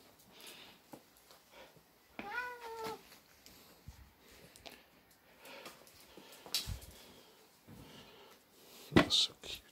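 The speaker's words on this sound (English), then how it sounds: "Missy, what's all these cats doing in your garage?" Several cats in a garage, with a clear drawn-out meow early on, scattered quieter mews and scuffles, and a sharp knock near the end, fairly close and alone without speech.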